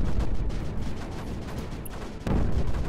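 Super mortars firing in the strategy game Creeper World 4, a steady run of low, muffled thumps that stays fairly quiet and distant, with a louder burst of shots near the end.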